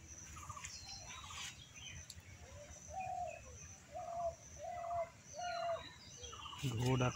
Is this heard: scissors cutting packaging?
no